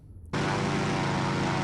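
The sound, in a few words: aircraft flying overhead in video game Silent Hunter 3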